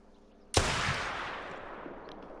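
A single loud handgun shot firing 45-70 ammunition, a sharp blast followed by a long rolling echo that slowly fades out, no voices.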